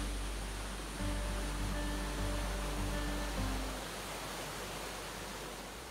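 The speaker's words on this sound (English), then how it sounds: "And you can hear the river." A river flows beside a rocky hiking trail on the way to Silver Lake, a steady broadband rush that sounds fairly distant and muffled. A low rumble surges briefly midway, and nobody speaks.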